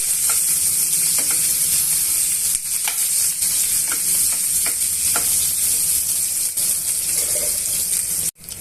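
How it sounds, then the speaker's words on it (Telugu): Finely chopped onions fry with chana dal in oil, a constant bright sizzle close by, with faint repeated taps and scrapes of a spoon stirring through the pan and a brief stop near the end, no voices. "ఉల్లిపాయ ముక్కలను బాగా వేగనివ్వాలండి"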